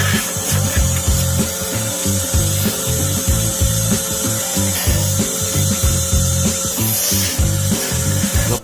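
A woodworking machine shapes a piece of wood into a goblet, giving a busy, rhythmic rubbing and rasping of tool against spinning wood that stays loud and close throughout.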